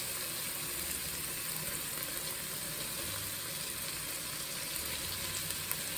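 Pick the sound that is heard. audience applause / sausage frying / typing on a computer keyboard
sausage frying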